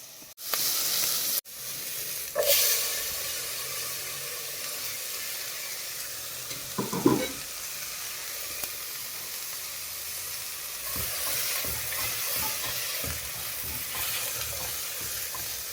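Masala Maggi noodles with vegetables frying in a pan, giving a steady close sizzle and hiss with brief stirring scrapes, no talk.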